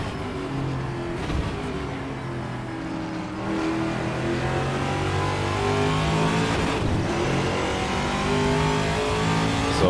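A VRC TA2 race car in a racing video game, its loud engine droning steadily and revving up through the gears, with a brief lift and dip before climbing again; no talking.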